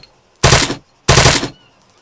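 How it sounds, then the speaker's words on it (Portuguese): Two silenced gunshots in a video game played through a Logitech G430 headset: sharp, loud bursts about half a second apart, separated by near silence, with no talk. "O tiro com silenciador."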